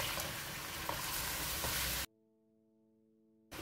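Chicken pieces sizzle and fry in a pan for Shahi chicken korma, a steady close crackle with occasional stirring clicks that cuts out abruptly midway, leaving only faint low hum before resuming briefly at the end.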